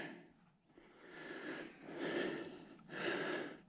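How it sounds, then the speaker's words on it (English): A hiker breathes heavily after a climb in the Arizona backcountry, with three rising rasping inhales and exhales close to the microphone, fairly quiet. "I'm breathing heavy"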